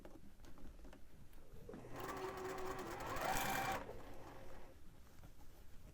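A sewing machine stitches a shirt collar band in a quiet workroom, its motor whirring up into a steady run for about two seconds before stopping, with soft handling noises around it.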